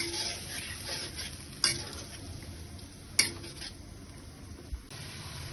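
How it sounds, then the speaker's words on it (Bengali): Fish pieces frying in a pan, a soft continuous sizzle under repeated stirring with a spatula and several sharp metallic clanks against the pan, close and fairly quiet. "মাছটা দিয়ে দিছি, এবার কষাই নেব।"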